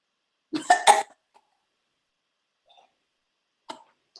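A couple of harsh, close coughs in quick succession, followed by faint clicks and a short breathy sound in a quiet room.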